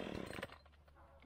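A chainsaw running badly on the wrong fuel, weed-eater gas, during yard work gives a brief, faint burst of revving that quickly drops to a weaker, uneven drone.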